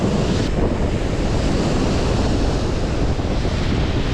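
Waves and wind on a Lake Erie beach in cold weather, a steady loud wash of surf with gusting wind buffeting the microphone throughout, with no talking.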